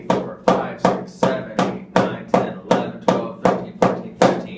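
Drum strokes played slowly to demonstrate the 15-stroke roll rudiment: about ten loud, evenly spaced hits, each sharp attack fading quickly before the next, with no voice.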